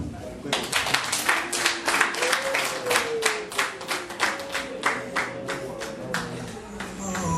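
Guests applaud at a Rwandan wedding dowry ceremony, a run of rhythmic group clapping in bursts, moderately near, under a voice speaking throughout.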